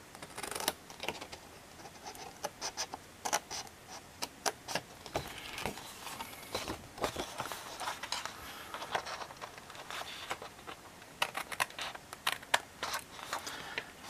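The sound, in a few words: cutting paper with scissors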